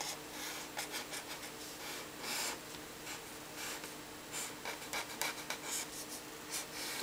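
Pen strokes drawing a circuit loop diagram by hand for a Kirchhoff's rule problem, with steady scratchy writing and rubbing on paper, quiet and close, in short bursts with brief pauses and no talking.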